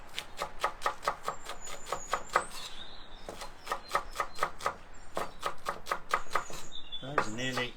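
Vegetables chopped with a knife on a board in a kitchen, rapid even bursts of crisp knocks, close and clear, broken by a short pause and a brief bit of background noise.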